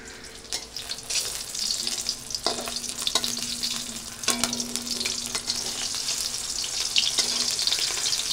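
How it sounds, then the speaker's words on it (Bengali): Eggs fry in a pan, a close crackling sizzle that grows gradually louder, punctuated by clicks and scrapes of a utensil, with no one speaking. "এখন ডিম আমার ভাজা হয়ে গেছে, আমি নামিয়ে নিচ্ছি।"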